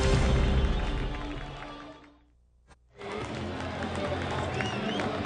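A record crowd at a college baseball game at Goodwin Field, Cal State Fullerton against Arizona State, makes a steady, loud roar. It drops away briefly to near silence midway, then swells back to a sustained din.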